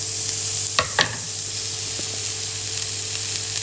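Onion frying in a hot pan gives a continuous, fairly loud sizzle, with a couple of quick clattering knocks from the utensil early on and a softer tap later.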